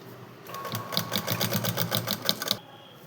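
Sewing machine stitching a pant seam, a steady rapid run of mechanical clatter lasting about two seconds, close and moderately loud, starting and stopping cleanly with no talking.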